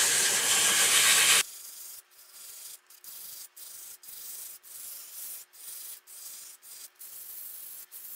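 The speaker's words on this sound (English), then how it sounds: "Let me get set up and sand this." Sandpaper pressed against a spinning wood turning on a lathe gives a loud, bright hiss for over a second, then continues as a softer steady rub broken by short regular pauses as the paper lifts and shifts.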